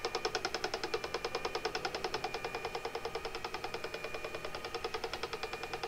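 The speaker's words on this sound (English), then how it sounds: "And a rattly bobbin." A rattling bobbin on a spinning wheel clicks in a fast, steady rhythm, several rattles per second, close and even throughout with no voices.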